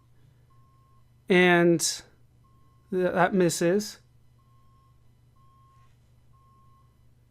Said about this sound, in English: Apparently a truck is backing up outside.